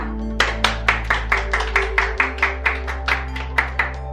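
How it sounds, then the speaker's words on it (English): Applause at a World Cup sweepstake draw in 2018: a run of about fifteen sharp, evenly spaced claps, close and fairly loud, over a steady low hum. "Round of applause first."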